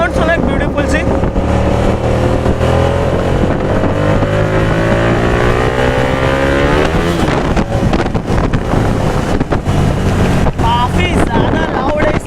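Hyosung GT250R motorcycle exhaust while riding, a loud continuous engine note rising in pitch as the bike pulls through the gears, with heavy wind buffeting on the microphone throughout.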